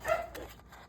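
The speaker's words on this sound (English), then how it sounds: "Sorry about my dog." A dog indoors gives a short, high whimpering whine near the start, then a fainter second whine, with quiet room sound after.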